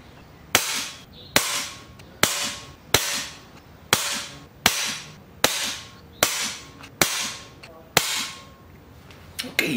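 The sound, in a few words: air rifle firing .22 pellets, 10 shots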